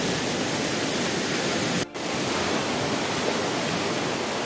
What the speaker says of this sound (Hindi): गेट से पानी निकलत है